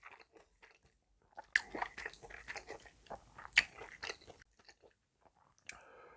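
Biting, crunching and chewing of spicy black bean noodles with kimchi, close and fairly quiet, in irregular bursts of crisp bites and soft squishy chews with short pauses.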